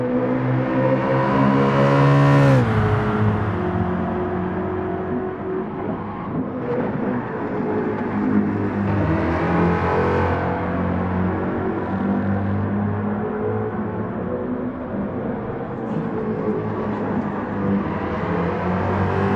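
Race car engine in the Gran Turismo racing game, revving loudly and continuously with a sharp pitch sweep early on, then sustained high-rev droning and gear changes throughout, with no talk.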